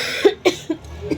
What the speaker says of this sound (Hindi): लेकिन जब खांसी होती है ना तब ज़्यादा होने लगती है।